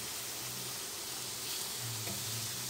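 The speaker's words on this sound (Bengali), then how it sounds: "নিমকি আমি এখন তেলে ভাজবো।" Butterfly-shaped nimki, a fried dough snack, frying in hot white oil, a steady, dense, close sizzle with faint bubbling throughout.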